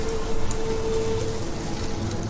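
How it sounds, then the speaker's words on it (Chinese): Steady rain falls through a windy night in the capital city, a dense, even hiss of drops with no gaps and no voices. "今夜京城风大雨大"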